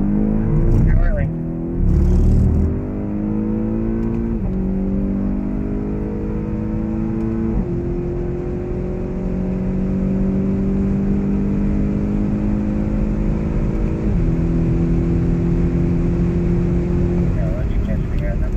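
A 2015 BMW X6 M accelerates hard around the COTA race track, its engine droning and climbing steadily in pitch through several upshifts, loud and continuous from inside the cabin.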